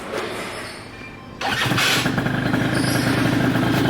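A Yamaha Aerox scooter engine cranks and catches after about a second and a half, then settles into a steady, loud, close idle with a fast even putter.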